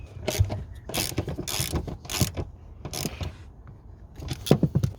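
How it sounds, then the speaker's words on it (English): A spanner tightens seat bolts in a Nissan Patrol GQ, giving irregular metallic ratcheting clicks and scraping bursts at close range, with short gaps between strokes and no talking. "Finger tight first, and then go at them with the spanner."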